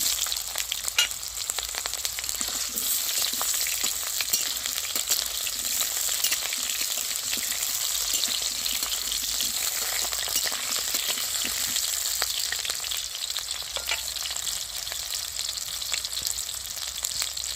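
Whole and slit green chilies and raw mango pieces fry in hot oil with a dense, even crackling sizzle that holds steady and close throughout, with no voices.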